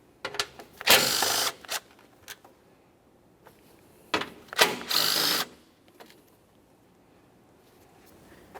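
A power tool spins out two 10mm mounting bolts on a 2011-2020 Toyota Sienna radiator support during AC condenser replacement, with two short loud whirring bursts separated by quiet clicks and handling noise.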